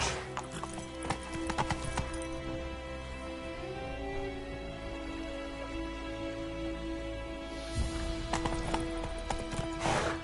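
Hooves of Roach, a horse in a video game set around White Orchard, clip-clopping in a steady walking rhythm, close and clear over a constant patter of light rain and low background ambience.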